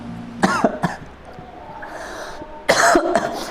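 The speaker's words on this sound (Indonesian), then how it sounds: "saya jadi batuk nih" Two harsh bursts of coughing, close and loud, the second longer and rougher, separated by a short lull.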